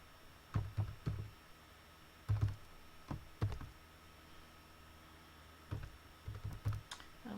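Bursts of typing on a computer keyboard as a course ID is entered into Blackboard, clattering in several short clusters separated by pauses, fairly close and alone in a quiet room.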